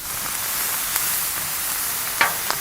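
Shrimp sizzle steadily in beef fat on a hot Blackstone griddle, a loud, even hiss throughout with a couple of brief sharp spatters near the end.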